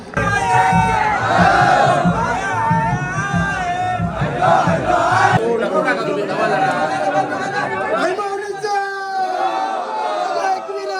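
A crowd at the Neral village palkhi procession cheers and shouts in unison, loud and close, with chanting voices rising and falling throughout.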